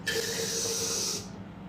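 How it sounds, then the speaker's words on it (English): A can of Reddi-wip whipped cream sprays in one continuous close hiss lasting just over a second, then cuts off abruptly into near silence. "I'm gonna spray a little bit with the Ready Whip."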